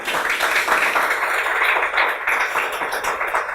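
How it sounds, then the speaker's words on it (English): A crowd at a ribbon cutting ceremony for a biscuits and waffles restaurant applauds, with dense, steady clapping from many hands that fills the space close by for several seconds. "So that's a round of applause right there."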